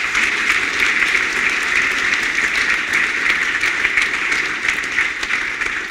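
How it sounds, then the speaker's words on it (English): An audience at a rotorcraft symposium closing session applauds steadily for several seconds, dense clapping from many hands that holds at an even level throughout. "Let's give them a round of applause."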